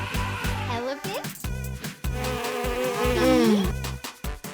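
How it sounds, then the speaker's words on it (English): A cartoon bee buzzes in a children's animal-naming song, a wavering insect drone riding over loud, rhythmic music with regular bass thumps. "Bee."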